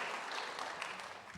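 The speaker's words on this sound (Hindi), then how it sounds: "जोरदार ताली खुदावंद के कलाम के लिए" Applause from a church congregation praising the word of God, a steady wash of clapping at a moderate distance that fills the short moment without pause.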